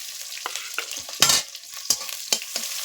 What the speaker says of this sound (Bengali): পেঁয়াজটাকে ভালো করে ভেজে নেব লাল লাল করে